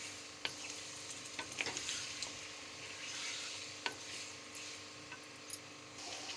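Potatoes frying in a pan with chicken, a soft continuous sizzle broken by scraping and clinking stirs, close by and fairly quiet.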